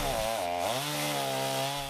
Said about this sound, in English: The sound of chainsaws symbolize recovery, rebuilding, relief.